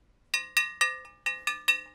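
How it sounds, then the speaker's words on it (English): Soldered shotgun barrels ring when struck: six bright metallic strikes in quick succession, each with a clear bell-like tone that decays briefly, close and alone. "Oh yeah, so that ring"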